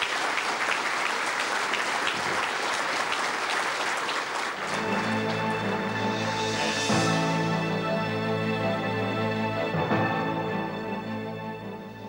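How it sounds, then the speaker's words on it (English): A hotel conference audience gives a warm round of applause after a morning talk, dense loud clapping that carries steadily over about twelve seconds before slowly tapering off. "would you please give a warm round of applause to Dr."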